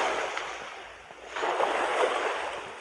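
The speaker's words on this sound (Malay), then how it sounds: "Ombak tu tembak Cem nanti" Ocean waves breaking on Santubong beach, a hissing surf wash that dips briefly then swells again into a fuller rushing break, with some wind buffeting the microphone.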